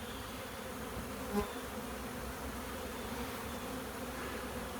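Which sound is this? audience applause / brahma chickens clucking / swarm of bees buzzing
swarm of bees buzzing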